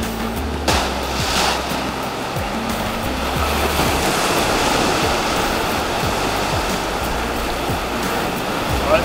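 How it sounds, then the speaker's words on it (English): Running water pours steadily over fresh fish heads being rinsed, a loud, continuous close-up splashing rush with no talk. "Rinse these off and be back to do our roasting."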